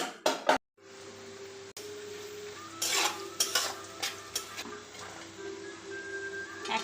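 Paneer cubes frying in a pan, with soft clinks of a utensil stirring against the pan and a faint, steady sizzle close by; a few sharper scraping bursts in the second half and no voices.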